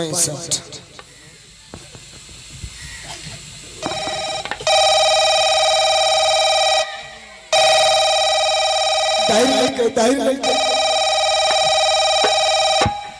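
A steady electronic telephone ring tone sounds in two long, unbroken stretches, loud and close, after a stretch of muffled voices and background noise.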